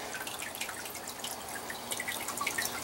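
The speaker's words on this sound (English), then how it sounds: "Directed the flow towards the back to get more of a current in that sump tank." Water flows and trickles into an aquaponic greenhouse sump tank, a continuous splashing wash with scattered bright drips, moderately close and unaccompanied by speech.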